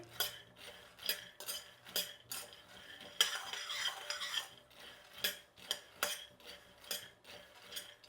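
Urad dal roasting in a hot kadai is stirred with a metal spoon, giving repeated scraping clinks against the pan in a steady rhythm, close and fairly quiet.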